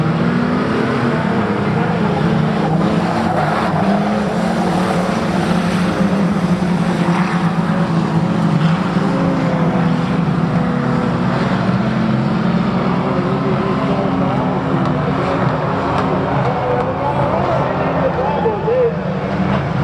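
Race cars drone around a speedway, a loud continuous engine roar with shifting pitch, while an announcer talks over it throughout.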